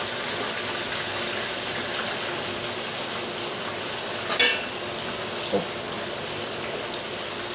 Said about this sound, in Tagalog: naluto na yung unang batch natin sa ating pagpiprito